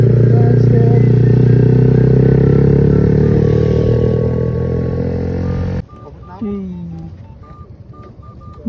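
A motorcycle engine runs loud and close with a steady drone that fades slightly before cutting away to quieter clatter and a faint tone, while people talk over it.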